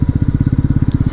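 A 2025 Bajaj NS400Z motorcycle engine idles just after starting, a loud, close, rapid and even low thump of firing pulses, heard alone.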